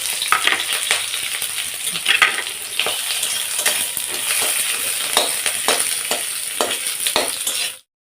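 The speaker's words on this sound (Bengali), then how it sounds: "তেল গরম হয়ে গেছে, এর মধ্যে দিয়ে দেবো সামান্য পরিমাণে একটু কালো জিরে, দিয়ে দেবো লঙ্কা পেঁয়াজ" Chilli, onion and black cumin hit hot oil, giving a continuous loud sizzle broken by frequent stirring scrapes, before cutting off abruptly.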